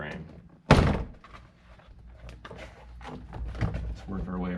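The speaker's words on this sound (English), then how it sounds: "we can now pry off the door panel" Plastic door panel being pried off a 2015+ Honda Fit (GK), one sharp loud thunk as the clips pop free, then quieter rustling and handling while someone talks.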